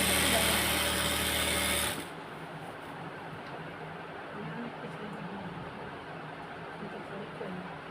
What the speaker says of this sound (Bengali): এখন বন্ধুরা নিচের হ্যামটা আমি সেলাই করব।